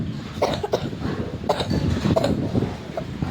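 A person coughs repeatedly in a run of rough, throaty bursts, close to the microphone and fairly loud, with short gaps between them.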